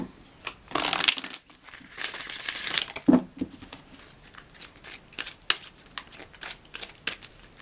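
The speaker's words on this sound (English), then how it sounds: "So I'm probably not shuffling this right." Tarot cards are shuffled by hand in bursts of papery riffling and slapping, close and crisp, followed by scattered softer card taps and shuffles.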